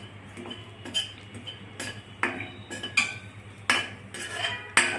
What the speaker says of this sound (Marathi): दालचिनी, लवंग सगळं एकत्रच भाजत आहोत